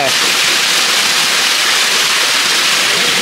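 Kuttu Patti waterfall near Natham, Dindigul, pours in a loud, steady, close rush of falling water that fills the whole moment without a break.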